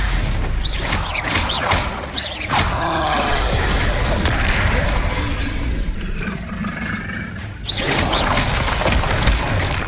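A Bombarda blasting spell detonates in a Harry Potter video game, a dense, loud booming blast with whooshing spell swishes and rumbling debris over a steady, busy game-battle background.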